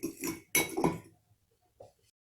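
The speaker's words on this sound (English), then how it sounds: "We'll go ahead and mix our paprika up into our flour." Utensils clink and scrape against a bowl while paprika is stirred into flour, in a few short bursts close by, then a quiet pause and one faint clink, with no voices.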